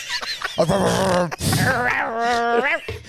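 A voice imitates a chihuahua with high, strained yips and whiny vocal sounds across a few seconds, close and loud.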